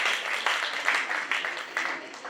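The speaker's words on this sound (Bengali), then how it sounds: "আমাদের শ্রীনন্দার জন্য একবার জোরে হাততালি হয়ে যাক সবাই একসাথে" An audience applauds for artist Sreenanda Shankar at a Times Of India event, a sustained burst of clapping from a crowd that stays fairly loud throughout.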